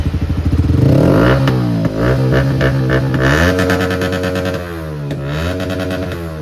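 A fully modified Yamaha R15 motorcycle engine revs up close and loud, its pitch climbing and dropping through several throttle blips over a steady rumbling idle, with no voices.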